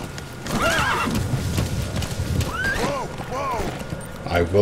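Horse neighing repeatedly in a video game, with clip-clopping hooves underneath, while a player talks over the sounds.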